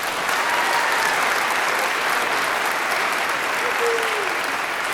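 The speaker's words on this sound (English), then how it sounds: "Let's give Emma another round of applause." A large audience at a school district orchestra concert applauds steadily and loudly for a performer, a dense wash of clapping filling the whole stretch without letting up.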